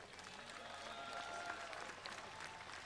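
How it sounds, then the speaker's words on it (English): Distant crowd applause at a high school football home game, a faint, diffuse patter of clapping spread across the stands, steady and low in level. "Let's give a big round of applause to Matthew Cole."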